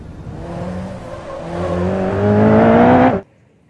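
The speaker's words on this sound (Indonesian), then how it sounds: "Wow, mobil balap warna kuning." A yellow toy race car's electronic engine sound revs up in rising, whining tones, getting louder for about three seconds before cutting off abruptly.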